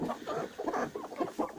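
Broody hens in a hen house give a steady run of soft, close clucks, with several birds murmuring over one another and no talk.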